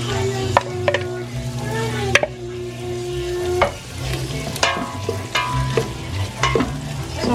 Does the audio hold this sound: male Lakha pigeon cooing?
no